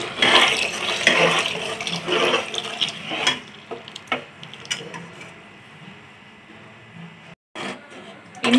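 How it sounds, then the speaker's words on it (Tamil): Water is poured and stirred into a pot of ragi porridge cooking on a stove, giving a sloshing, splashing rush that comes in several bursts before easing off into quieter stirring sounds. "இன்னும் கொஞ்சம் தண்ணி ஊத்துறேன்."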